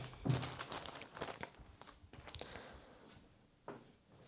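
A plastic bag is handled close by while a Lenovo Ideacentre 3 desktop is unboxed, giving a few quiet bursts of crinkling and rustling that fade toward the end, with no talking.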